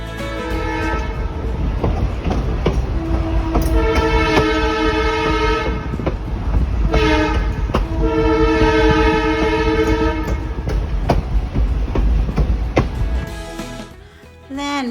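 A train rumbles along with clattering wheels while its horn sounds in several long blasts, loud and close.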